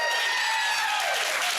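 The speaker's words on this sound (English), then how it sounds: "not only are the women clapping in the audience, the few men are actually also clapping in the audience" A studio audience of mostly women and a few men claps steadily on a talk show set, a dense, even burst of applause that carries close and loud from start to end without any talk over it.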